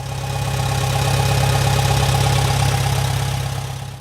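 A vintage International Harvester 444 tractor engine runs close by, a loud steady chugging idle with an even low-pitched pulse throughout.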